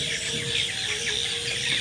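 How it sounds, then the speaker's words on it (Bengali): Chickens cluck in short, agitated bursts on a poultry farm as one is grabbed by hand, close and moderately loud over a faint background hum. "তো চলুন এবার একটা মুরগি ধরে নিই"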